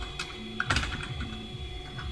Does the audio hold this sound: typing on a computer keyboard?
yes